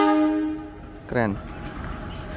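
A Serayu passenger train at an Indonesian station sounds a sustained horn blast that fades, followed by a second short, sharp toot; faint station ambience continues afterward.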